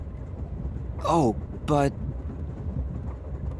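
Steady low rumble of a moving train in Master Detective Archives: Rain Code runs throughout, with two brief spoken interjections over it.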